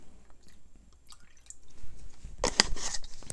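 Filtered water is poured into acrylic paint mixed with Floetrol, a short wet splash and drip near the end after quiet stirring noises.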